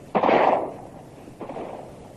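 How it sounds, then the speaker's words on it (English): Two sharp gunshots ring out in an audiobook scene as men fire at fleeing boys, a loud crack followed about a second later by a fainter second shot, with no voices over them. "We run away, and they shoot at us."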